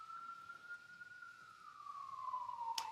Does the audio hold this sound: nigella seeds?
no